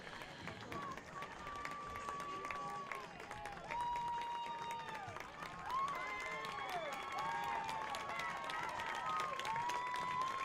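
Pioneer field hockey fans and parents applauding after a state championship game, sustained clapping and cheering from a crowd mixed with shouts, whistles and voices, swelling louder midway and continuing to the end.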